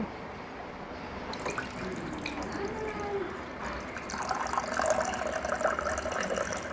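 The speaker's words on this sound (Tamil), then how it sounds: "நம்ம இதில் வாட்டர் ஆட் பண்ணிக்கலாம்" Water being poured into a pani puri mix, a soft trickling and dripping splash heard close but quietly, building slightly toward the end.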